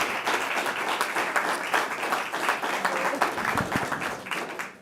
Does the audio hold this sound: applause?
yes